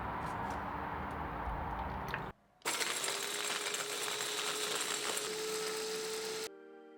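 A food processor grinds caramelized hazelnuts with a little oil into praline, giving a harsh whirring buzz in two close, loud bursts separated by a brief pause.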